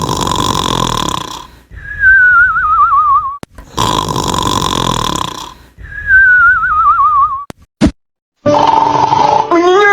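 A voice imitates cartoonish snoring in two loud, close cycles, each a rasping snort followed by a wavering, falling whistle. A sharp click and a brief different tone follow at the end.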